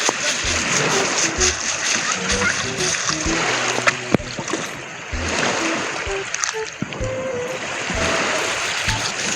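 Sea urchins are rinsed and soaked in water, with continuous splashing and sloshing close by while a person speaks over it.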